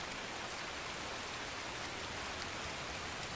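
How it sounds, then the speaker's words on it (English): Heavy rain pours in Escape From Tarkov, a dense, unbroken hiss of drops that stays constant throughout with no other sounds. "Didn't realize they made the rain this bloody loud"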